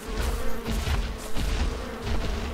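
Buzzing insects swarm around a hive in the Ark: Survival Evolved game, a dense, steady drone that rises and falls slightly and stays close throughout with no talking.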